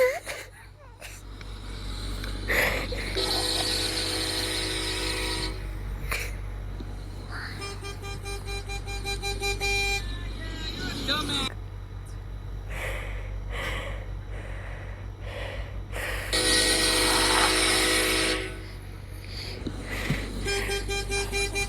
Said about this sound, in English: Fatal Fury here, train horn crank.